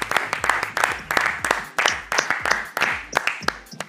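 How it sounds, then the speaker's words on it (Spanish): Studio audience claps for a guest goalkeeper on a Spanish-language football talk show, sharp uneven bursts of hand claps close to the microphone, rising and falling in rhythmic waves for a few seconds. "¡Un aplauso para él, por favor!"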